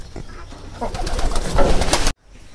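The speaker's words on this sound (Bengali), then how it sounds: "আর দেখেন কবুতরগুলো খাবারের জন্য উপরে এসেছে" Pigeons coo and rustle at a pigeon farm in the morning as they come up to feed, a dense, close flock sound running steadily before cutting off abruptly near the end.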